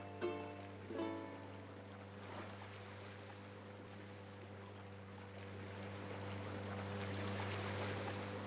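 A boat ride on the ocean in Animal Crossing: New Horizons, with a steady low engine hum and washing water, a couple of soft knocks early on, and the noise swelling slightly toward the end.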